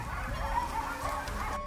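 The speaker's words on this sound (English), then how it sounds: "It sounds like ducks or geese or some gaggle of birds." Several geese honk repeatedly nearby, overlapping calls over a steady background hum, with no one speaking.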